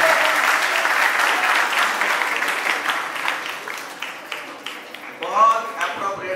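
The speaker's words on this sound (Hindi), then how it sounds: "एक जोरदार तालियां रक्षित चौधरी जी।" Audience applause at a talk or seminar, a dense burst of clapping that slowly thins into scattered claps before a voice returns near the end.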